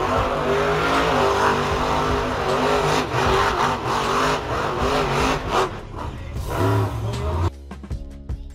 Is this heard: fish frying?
no